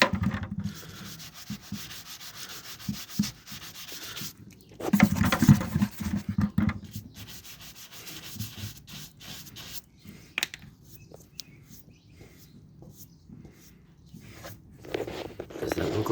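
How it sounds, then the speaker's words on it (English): A scrub brush scours baked-on dirt off a Honda CRF300L motorcycle exhaust pipe, making close, rhythmic rasping strokes that vary in intensity, with a voice talking at times. "Get a scrub brush and scrub it."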